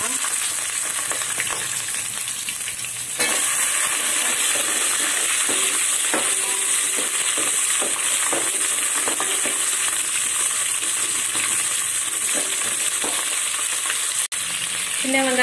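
Steady, close sizzling of chopped shallots frying in hot oil, with occasional stirring and scraping in the pan, no talking.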